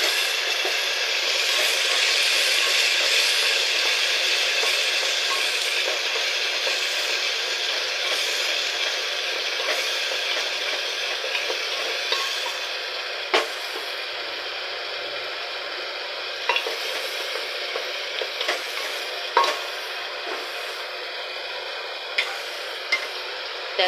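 Chopped onion cooked until reddish, now joined by ground masala paste, sizzles steadily in a pan, a continuous bright frying hiss with scattered sharp ticks and clinks of stirring, close and alone.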